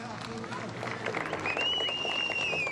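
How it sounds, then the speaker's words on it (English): A crowd cheers and applauds at the ceremonial start of the 2012 Barum Rally in Zlín, a broad wash of clapping and voices at a distance under close commentary, with a whistle rising partway through. "Big cheers, of course, for Kopecki."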